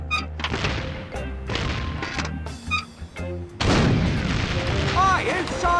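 Heavy cannon booms from the pirate-ship battle in The Curse of Monkey Island land as a run of loud, close thuds and blasts, tangled with game music and character voices.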